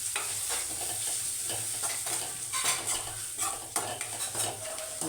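Tomato rice mixture being stirred as it fries in a pan, with steady sizzling and repeated scraping clinks of a spoon against the metal, close and continuous without any talk.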